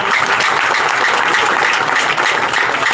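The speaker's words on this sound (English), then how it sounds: "Please clap for yourself" A large crowd at a political rally claps loudly and continuously, a thick wash of applause with no pauses.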